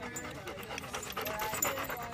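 A five-year-old dog pants in quick, breathy bursts close by, faint and steady over a couple of seconds, amid light background noise.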